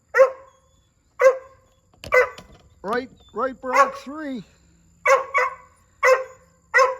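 A very vocal dog lets out a string of sharp barks mixed with drawn-out whining yelps, close and loud with short pauses between bursts, while a person speaks briefly.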